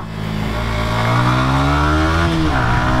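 A motorcycle engine revs up loud and close as the rider drops back into first gear, its pitch climbing and shifting steadily with no talk over it.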